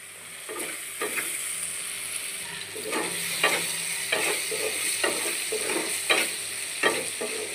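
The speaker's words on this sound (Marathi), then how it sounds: "मस्तपैकी असा बटाटा भाजून द्यायचा." Potatoes roasting in a pan with oil sizzling steadily, stirred by a utensil that scrapes and clatters every second or so, close and moderately loud with no voices.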